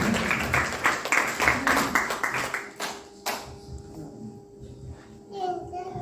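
A church congregation at a Friday meeting breaks into brisk, dense hand-clapping that lasts about two and a half seconds, then fades out, leaving quieter voices and a sustained tone.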